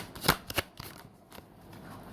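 Tarot cards being shuffled and drawn, with two sharp riffling bursts near the start followed by softer card slides and handling, close and clear.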